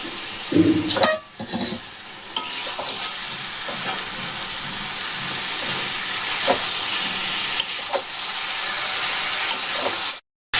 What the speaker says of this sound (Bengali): এবার দিয়ে দেবো ভেজে রাখা এঁচোড়।